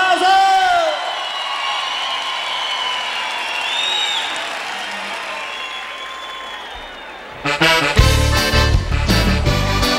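A live crowd at a concert bursts into loud applause and cheering near the end, after a stretch of held sung notes over the band; clapping and whoops swell suddenly in the last seconds.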